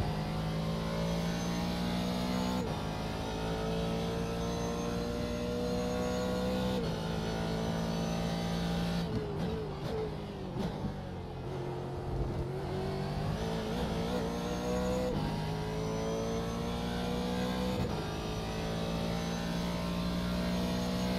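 Race car engine in iRacing, a steady, sustained roar that rises in pitch through each gear and drops at the shifts. It stays loud and constant throughout, with a rougher patch midway.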